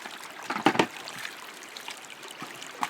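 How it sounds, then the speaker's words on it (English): Water trickles and splashes steadily into a shallow gold pan, a light pouring sound that rises briefly then settles to a gentle dribble. "Fill that up with a little bit of water."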